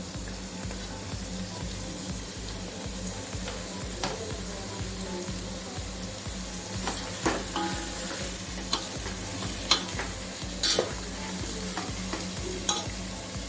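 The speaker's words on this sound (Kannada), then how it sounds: "ಇವಾಗ ಹೆಚ್ಚಿರುವಂಥ ಹುರುಳಿಕಾಯಿ ಹಾಕ್ತಾ ಇದ್ದೀವಿ." Chopped green beans stir-frying in a pan for vegetable fried rice: a continuous close sizzle with regular rhythmic scraping and stirring strokes and occasional clicks of the spoon, and no talking.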